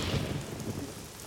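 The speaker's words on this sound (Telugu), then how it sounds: "అయ్యో ఏ వర్షం," Steady heavy rain pours throughout a film scene, dense and enveloping, with low rumbling thunder rolling underneath and no voices.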